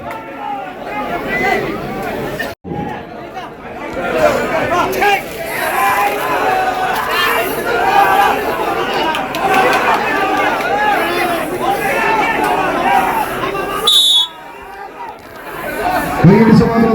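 Crowd in a packed stadium gallery at a volleyball semi-final in Monippally, a loud, sustained roar of chatter and cheering that swells near the end, with a brief drop partway through.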